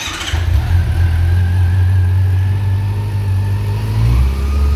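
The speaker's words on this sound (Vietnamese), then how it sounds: "Và cái âm thanh động cơ của nó thì nghe rất là hay. Để mình nổ máy luôn cho mọi người nghe." A 2021 Honda CB400 Revo motorcycle engine firing up and settling into a loud, close, deep throbbing idle with a slight rise in revs near the end, no talking.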